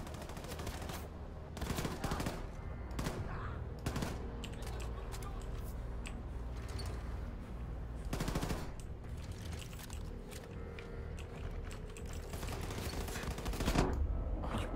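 Rapid gunfire bursts in the first-person shooter Wolfenstein II: The New Colossus, repeated volleys spread across the span over a steady game soundtrack, with no clear talk.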